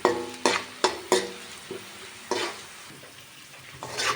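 Grated cabbage frying in a hot pan over high flame, with a series of sharp stirring scrapes and clatters early on over a steady close sizzle that swells again near the end; no talking.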